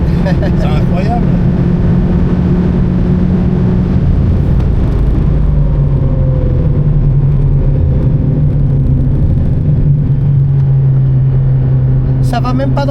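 A Porsche GT3 climbing at the Spa-Francorchamps circuit gives a steady engine drone from inside the car, heard loud and continuous beneath ongoing voices.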